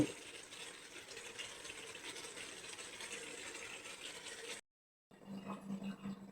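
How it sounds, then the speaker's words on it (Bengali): Water poured into frying spice masala for a curry gravy with dhoka, a steady close rushing and gushing of liquid that breaks off briefly, then resumes with a bubbling sizzle. "তারপরে আমি ঝোলের জন্য জল দেব"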